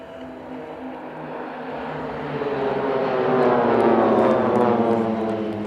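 Display aircraft at an airshow in Leszno approaching for its final break, a steady engine drone swelling gradually louder as it nears, alone without voices.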